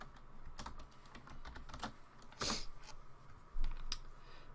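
Someone types a short name on a computer keyboard, a quick irregular run of close, crisp key clicks with a few louder taps and no talking.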